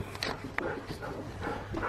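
Puppies whimper and yip as a walk is about to start, with faint, high, broken cries mixed with muffled indoor noise close by.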